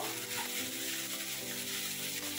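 Chopped leafy greens sizzle in hot oil in a pan, a steady soft frying hiss throughout with no talking.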